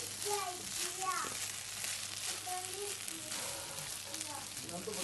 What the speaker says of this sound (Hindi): इसमें मैंने 1 चम्मच नमक, ब्लैक पेपर, कोरिएंडर पाउडर, ये सब ऐड करके इसको अच्छी तरह से आपने फ्राई कर लेना